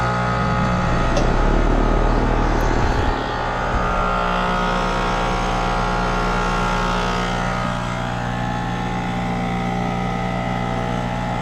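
A failed air conditioner compressor that no longer pumps runs with a loud, steady mechanical drone and hum, close by, with a brief surge and dip early on before settling into a constant tone.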